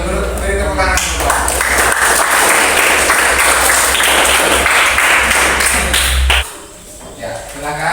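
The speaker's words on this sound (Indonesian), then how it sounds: "Silakan beri tepuk tangan dulu." Students in a classroom clap for a speech group, a loud close burst of dense applause lasting several seconds before stopping abruptly, with talk heard around it.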